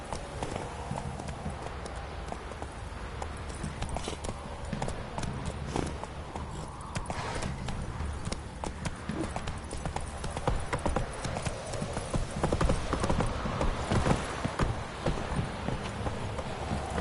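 Horse hooves clip-clopping in a video game, dense continuous rhythmic hoofbeats close up throughout, with game ambience and occasional voices.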